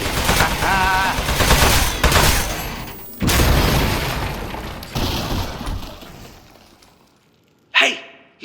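Shooting in Aperture Desk Job: several loud bursts of gunfire with abrupt starts, separated by fading gaps, then a quieter stretch ends in one sharp final burst.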